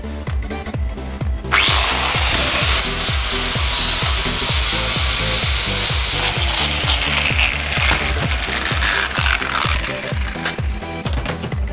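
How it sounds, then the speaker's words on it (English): Scrap metal welds on a sculpture are cleaned up with a power tool, giving a loud, close, rapid rattling grind with regular mechanical pulses and a harsh hiss that rises partway through, with no talk. "just cleaning those welds up"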